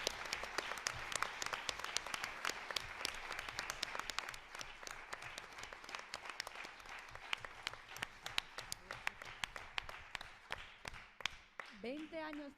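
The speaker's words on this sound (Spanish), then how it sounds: "quiero que le demos otro abrazo y otro aplauso a Charo Velasco" An audience claps together after a documentary screening at a feminist university event, dense continuous applause with sharp individual claps that goes on and fades out at the end.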